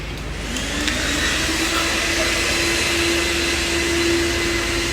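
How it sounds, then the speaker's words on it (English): A vacuum cleaner runs steadily up close while cleaning the boot area of a Jaguar before delivery, a continuous loud whine with a rising tonal hum and no pauses. "to vacuum the boat area before delivery"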